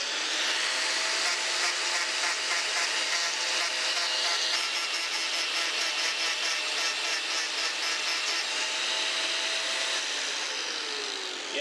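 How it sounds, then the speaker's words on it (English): A grinder dresses small burrs off hot forged rail spikes being shaped into marshmallow roasters, giving a steady, loud, continuous high whine with a rough, gritty edge that holds for the whole stretch without pause. "Open it up just enough to grind those little burrs off."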